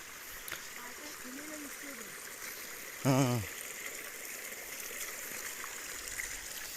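Water flowing through a stream in a rain-soaked farm field makes a steady, moderately faint rushing wash, with a short tonal voice-like call breaking in about midway.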